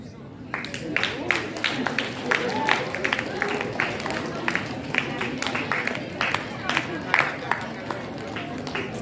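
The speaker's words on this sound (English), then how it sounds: "Big round of applause." Sustained applause from a sizable audience, dense clapping that carries on evenly for several seconds, with some crowd murmur underneath.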